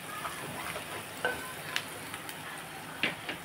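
Onions frying in a pan, a soft continuous sizzle with light stirring scrapes and a few brief clinks of the spoon against the pan.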